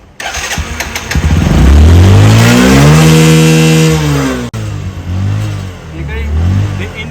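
A new motorcycle's engine starts up close by and revs loudly, the pitch climbing and holding, then dropping back to a steady idle after a brief cut.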